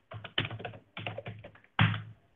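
Fingers type on a computer keyboard during a Linux command-line workshop, close and clear, with bursts of quick key clicks separated by brief pauses and no talking.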